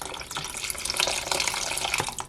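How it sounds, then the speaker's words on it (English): Water running from a tap into a wide Aroma pot of cream of leftover vegetable soup, a steady splashing rush lasting a couple of seconds, close and fairly loud with no talking. "I'm going to add a little bit more water."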